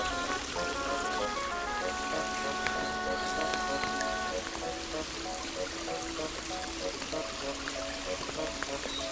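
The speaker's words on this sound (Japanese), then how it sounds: "それにしても雨が強くなってきた。" Cold autumn rain falls steadily on a pond at dusk, making a continuous dense patter and hiss that stays constant throughout, with faint tonal sounds mixed in and no speech.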